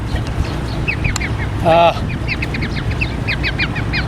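Young quail, a few weeks old, give repeated short high chirps in quick clusters over a low steady background hum, with one louder, brief harmonic call standing out in the middle.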